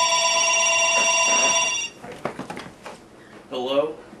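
A steady electronic telephone ring sounds for about two seconds and then stops. Clattering handling noise and a voice follow.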